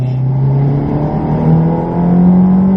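Ferrari race car engine accelerating on the Silverstone circuit, a loud, close, steady engine note that climbs gradually in pitch as it pulls.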